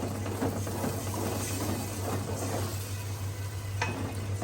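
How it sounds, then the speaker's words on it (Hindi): Gram flour (besan) roasting in a pan for kadhi, a soft continuous sizzle with faint stirring scrapes over a low steady hum, quiet and close. "कच्चापन इसका ख़त्म करने के लिए इसको मैं 2 मिनट के लिए भून रही हूँ।"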